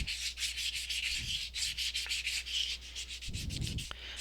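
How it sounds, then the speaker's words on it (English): Wet sanding of a polymer clay pendant with 400 grit wet-or-dry sandpaper, worked in circular motions; a steady, close, rhythmic scratchy rubbing that keeps going alone with no talk. "move on to a 400 grit. Same thing, wet or dry sandpaper"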